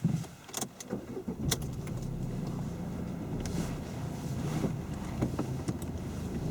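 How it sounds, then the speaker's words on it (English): A car engine rumbles while driving, with wind buffeting and scattered clicks and thumps over a steady road noise. "Okay, do you want to start the engine?"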